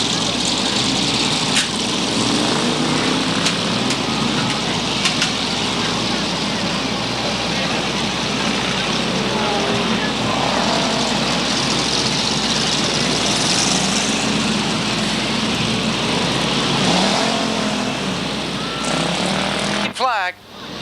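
Limited sportsman race cars pull away at Waterford Speedbowl, a dense, continuous roar of several engines filling the track air at steady loudness, with an announcer's voice running over it until a sudden cutoff at the end.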